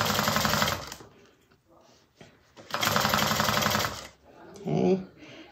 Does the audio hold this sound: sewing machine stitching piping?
yes